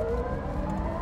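An electric Triumph Stag conversion pulling away from a standstill, with a steady electric motor whine over low road and cabin rumble, close and continuous.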